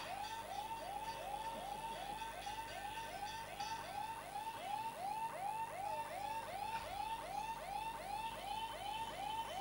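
Fire brigade vehicles pass with sirens blaring: a steady, rapidly repeating rising-and-falling electronic wail that runs unbroken for nearly ten seconds over a constant background roar, with no talking.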